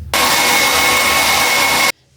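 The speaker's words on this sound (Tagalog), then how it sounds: "mag-dry blower ng buhok ko" A hair dryer blows hair dry in a home, its loud steady whooshing roar starting abruptly, running unbroken for nearly two seconds and then cutting off.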